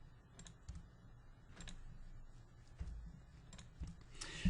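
Scattered keystrokes on a computer keyboard, clicking in short irregular bursts with pauses between, fairly quiet against a low background hum, no voices.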